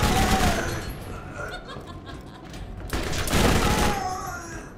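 Rapid automatic fire from the Bone Shredder Tediore SMG in the video game Borderlands, dense continuous bursts that ease briefly and then pick up again, loud and close with faint game sounds mixed in.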